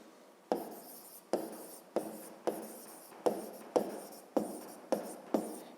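Handwriting during a 5th-grade geometry exercise: about nine separate scratchy pen or chalk strokes, each a short sharp onset fading out, in a steady rhythm, close and fairly quiet with no talking.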